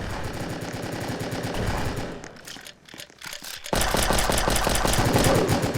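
Rapid pistol gunfire in a Roblox prison game: dense, mechanical bursts of shots, loud and continuous, break off into a brief quieter gap before a second burst resumes at full volume.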